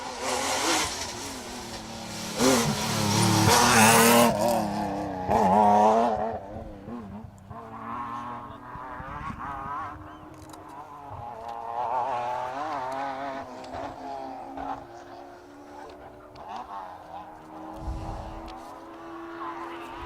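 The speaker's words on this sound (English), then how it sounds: "Next up, Mr. Toner in the 1M BMW." BMW 1M rally car on a Manx Rally stage, engine revving hard close by with tyre squeal, then fading into a lower, distant drone as it pulls away.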